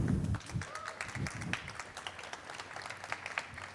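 An audience at a cryptocurrency talk in a French club applauds, a modest scattered patter of clapping that tapers off, with a few soft voices.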